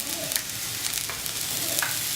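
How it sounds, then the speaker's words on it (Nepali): Potatoes fry and sizzle in a pan as green onion is added, a steady close crackle with scattered stirring scrapes and small pops. "अब म यसमा हरियो प्याज राख्छु।"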